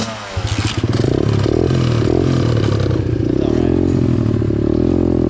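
A pit bike engine with carburetor trouble runs loud and close, pulsing in an uneven, sputtering rhythm, with a brief spoken remark over it.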